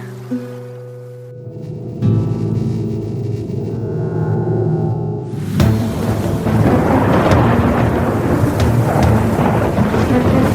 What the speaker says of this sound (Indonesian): Hujan badai ini terlalu kuat.